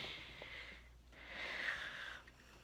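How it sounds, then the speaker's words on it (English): A blind or deaf dog panting close by, with two long breathy pulses of quick airy exhalation, soft and fairly quiet with no talking. "You were panting kind of hard over here."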